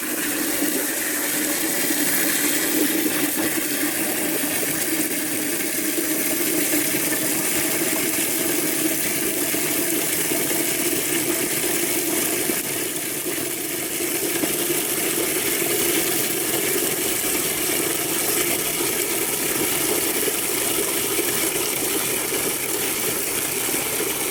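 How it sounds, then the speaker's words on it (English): Water gushes steadily into a bucket for an electrolysis rust-removal bath, a continuous loud, broadband rush that stays even throughout. "So we'll fill this water bucket up"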